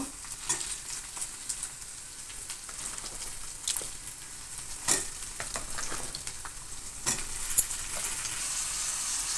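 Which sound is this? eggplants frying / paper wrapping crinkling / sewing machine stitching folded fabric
eggplants frying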